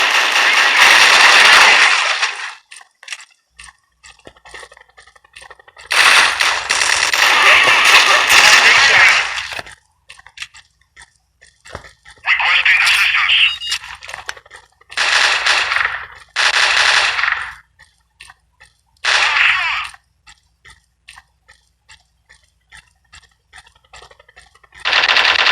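A Desert Eagle pistol fitted with a compensator in Strike Team Online fires in loud, sharp bursts separated by short pauses, the shots close and dominant.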